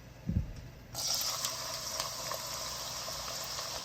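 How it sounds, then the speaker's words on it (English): Chopped onions hit hot cooking oil in a pan with a sudden loud sizzle that starts about a second in and holds steady, with a soft thump just before. "to a hot pan I've added some cooking oil. Next, I'm going to go in with some chopped onions."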